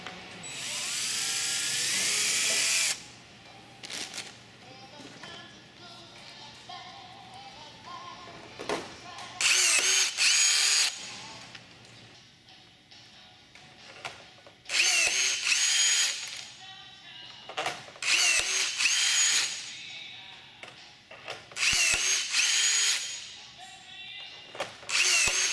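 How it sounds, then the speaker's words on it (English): A power drill opens up rivet holes in aluminium sheet while building a Zenith Super Duty kit aircraft, whining in several loud, close bursts of a few seconds each, separated by quieter gaps with handling noise. "you can always take your drill to help open up the hole"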